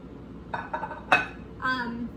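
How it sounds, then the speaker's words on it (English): Chopped salad ingredients, including apple, are tossed in a bowl, giving a few light clinks and soft knocks spread over a couple of seconds, close by with no talk. "So I'm just gonna kind of toss them in, make sure they're kind of everywhere in your salad."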